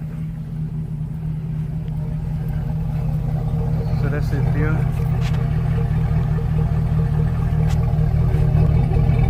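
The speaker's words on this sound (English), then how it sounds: "So that's how it sounds there at idle. This is cold idle, keep in mind." A deep, steady cold idle from a 1998 Chevy Suburban with a swapped 5.3-liter LS V8, rumbling low and continuous, with someone speaking briefly over it.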